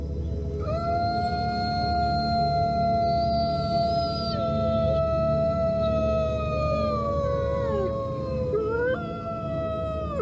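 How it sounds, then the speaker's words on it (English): Several wolves howl together in long, sustained overlapping tones that slide slowly in pitch, carrying steadily for about ten seconds with a sharp upward break near the end. "Wolves hear the howling of other wolves around them and copy that."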